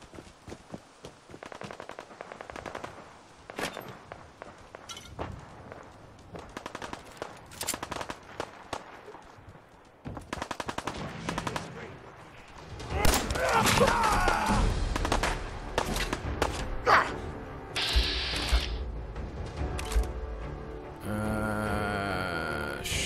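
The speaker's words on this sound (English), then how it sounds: "Oh, I hear shooting." Gunfire in Fallout 4 near a ghost town on the road to Concord: scattered single shots give way to rapid bursts of automatic fire that grow louder and denser, with occasional voices.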